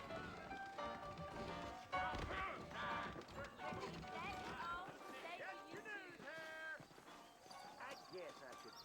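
Horse hooves clip-clop in Red Dead Redemption as saddled horses ride slowly out of town, a steady rhythmic trot in the foreground with music and voices layered over it.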